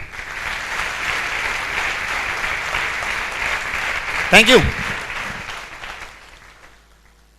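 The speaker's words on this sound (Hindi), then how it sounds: "ग्रेवाल सर के लिए भी एक जोरदार तालियां।" Audience applause at a Safe Shop gathering in Bhopal, a broad steady clapping wash that fades toward the end, with a brief spoken thank-you breaking through near the close.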